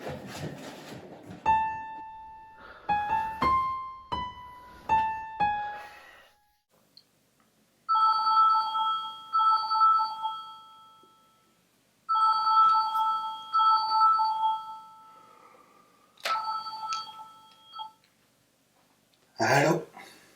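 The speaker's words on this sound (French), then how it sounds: "Alors, j'appelle mon patron, puis ma mère, puis le docteur Perrin." A telephone rings in repeated bursts of electronic tones, each pair of rings separated by pauses, close and clear, with short gaps of near silence between rings.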